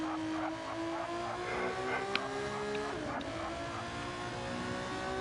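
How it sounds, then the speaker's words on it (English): Race cars in a racing video game roar and rev steadily, with a brief high-pitched squeal of juddering brakes around the middle before the engine note drops. "You can hear it in the squealing brakes as they're juddering."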